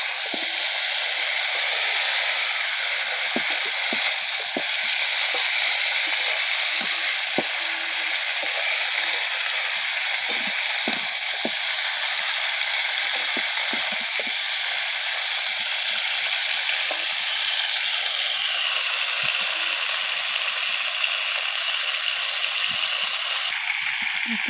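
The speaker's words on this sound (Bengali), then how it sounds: "2 চামচ লবণ দিয়ে সবজিগুলি ভালো করে নেড়ে নিতে হবে। নেড়ে নেওয়া চলছে।" Vegetables salted in a hot pan for a village-style labra dish hiss and sizzle steadily up close, with faint scrapes and taps of a spatula stirring through the continuous frying.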